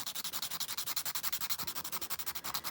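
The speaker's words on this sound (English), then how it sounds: "I'm going to take the coarse file" A coarse nail file rasps back and forth across a fingernail during a nail-dipping manicure, producing a steady, close rhythm of short, evenly spaced scratchy strokes that continues without pause and with no talk.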